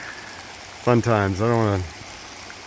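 A river rushes steadily in heavy rain as a hiker wades across it. Someone speaks briefly over the continuous broadband wash of water.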